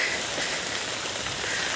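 Steady rain shower falling outdoors while the sun shines, a continuous broadband hiss of drops hitting the ground and surfaces, even and unbroken throughout, with no talk.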